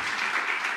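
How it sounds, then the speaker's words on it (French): Dense audience applause for a comedy show host, a steady wash of clapping from a crowded hall with no break. "Une bonne main d'applaudissement à Mike."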